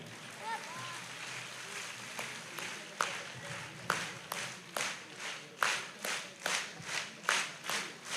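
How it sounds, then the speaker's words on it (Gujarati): Audience at a community cultural gathering and student event clapping together in a rhythmic sequence of sharp, evenly spaced claps that grow steadier and louder toward the end, over a murmur of crowd noise. "એવી તાળી નહીં સિક્વન્સ વાળી તાળી"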